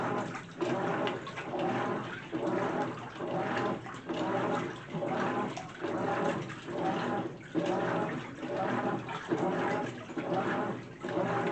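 A GE washing machine agitating water on its normal cycle at a high water level, with rhythmic sloshing surges that rise and fall roughly every second, steady and alone.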